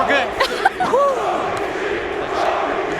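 A large crowd chanting and roaring at the Evo 2019 fighting game tournament, a dense arena swell with rising cries and whoops early on, settling into a steady sustained chant.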